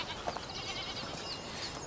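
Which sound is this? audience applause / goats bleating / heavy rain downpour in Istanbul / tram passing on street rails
goats bleating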